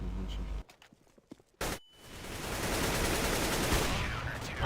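Bursts of P90 submachine gun fire in CS:GO competitive play, a couple of short sharp shots followed by a long sustained rapid burst, loud and close, with laughter and voices mixed in.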